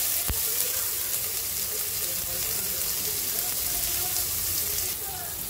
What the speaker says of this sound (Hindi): अब इसके अंदर प्याज डालेंगे, प्याज के साथ नमक डालेंगे